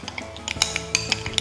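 Glassware clinks and knocks in a kitchen during preparation of fried chocolate-cheese bread, a few short bright chinks and taps at low level with no talking.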